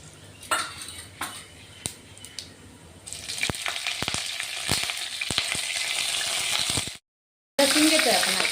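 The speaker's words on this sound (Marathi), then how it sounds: "जिरे मोहरी चांगली तडतडली की आपण कढीपत्ता टाकतोय" Cumin and mustard seeds splutter in hot oil during the tempering for Maharashtrian kanda poha, with a steady close sizzle and scattered sharp pops and crackles that grow busier midway, then a brief silent break before the frying resumes.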